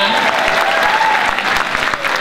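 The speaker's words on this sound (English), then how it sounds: "a big round of applause for St. Michael's and St." Loud, dense applause from a crowd at an outdoor evening community event in Sneem, South Kerry, honouring two local schools, a steady roar of many hands clapping with some voices mixed in.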